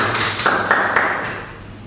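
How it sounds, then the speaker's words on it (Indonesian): A handful of sharp claps ring out at an unhurried, slightly uneven pace in a classroom, fairly close, over a faint background hum. "Kita tepuk tangan teman-teman ini."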